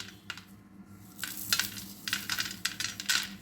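Peanuts, garlic and cumin being stirred in a pan with the gas turned off, a soft background sizzle under irregular scraping and rattling strokes that grow louder and busier toward the end.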